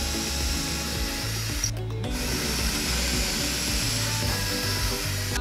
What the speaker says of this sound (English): So the next step is to pre-drill our holes so the handles go right in.